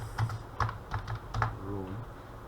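Computer keyboard typing at a desk, a quick run of about five or six distinct keystrokes in short bursts, close and fairly quiet, with a faint low murmur at the end.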